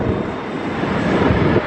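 An Airbus A321 airliner lands in high winds at London Gatwick, a loud steady engine roar with gusty rumble filling the short stretch.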